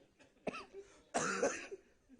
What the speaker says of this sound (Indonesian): Langsung batuk saya.